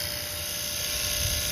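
A vacuum pump pulling vacuum on an HVAC system during a Rheem compressor replacement, a loud, steady, high-pitched mechanical whine and hum with no break.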